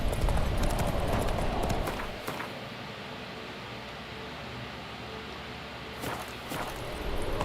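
Horse hooves galloping in a Witcher video game, a quick rhythmic clip-clop that is loud at first, then eases to a quieter steady trot under a background hiss.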